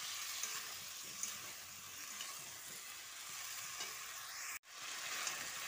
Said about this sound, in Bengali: অল্প অল্প জল দিয়ে বেশ ভালো করে একটু কষিয়ে নিতে হবে।